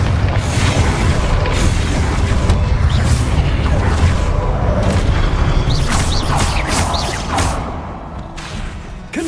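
Confringo blasting-curse explosions in the Hogwarts Legacy wizarding game during combat trials. A dense, loud roar of booms and bursts holds steady for most of the stretch, with brief whooshing flares near the end and no speech.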